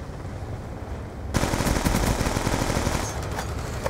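Machine gun fire in Call of Duty Black Ops 2 multiplayer bursts in suddenly after a quieter stretch, a loud rapid rattle of shots that continues and then eases slightly toward the end.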